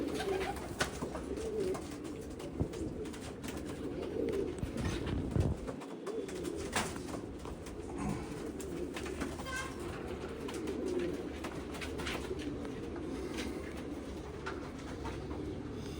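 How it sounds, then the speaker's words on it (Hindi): Jamuni pigeons coo softly and repeatedly against a constant outdoor background hum, with low rumbling noise throughout. "बड़े ही परवाज़ों वाले के कबूतर हैं।"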